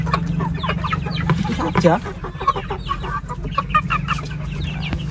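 Chickens cluck with a rooster among them at close range, calls scattered across the scene over a low steady hum, while a person speaks briefly.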